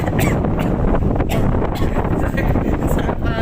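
Strong wind buffets the microphone in a loud, continuous roar with gusty rumbling, drowning out everything else.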